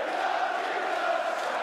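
A crowd of about 4,000 at the 2012 Cash Converters Players Championship darts final between Phil Taylor and Huybrechts cheers and chants, a dense steady roar of voices with no single voice standing out.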